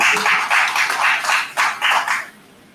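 A round of applause greets a guest being introduced at an organizational event, a small group clapping in surging bursts that fade out near the end.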